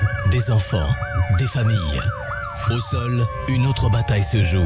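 An ambulance siren wails in repeated rising and falling sweeps in a radio advertisement for Magen David Adom emergency medical services, loud and close beneath a voice-over.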